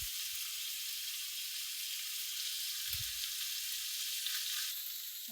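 Onion fries in a pan with a steady, even sizzling hiss, close and moderately quiet, broken only by a couple of soft low bumps, with no speech.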